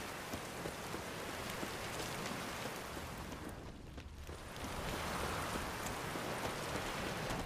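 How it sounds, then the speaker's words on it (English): Heavy rain in the video game Witcher 3, in Skellige, pours in a dense, unbroken roar, loud and steady, briefly thinning for a moment before surging back. "Raining fucking buckets."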